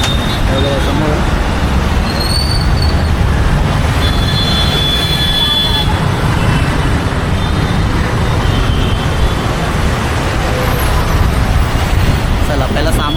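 A Mahapurush Travels bus pulls up at a roadside stop amid steady, loud road and engine rumble, with people talking nearby throughout.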